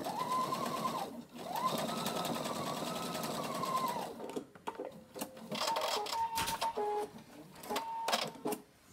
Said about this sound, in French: Et vous piquez sur la piqûre que vous avez déjà faite.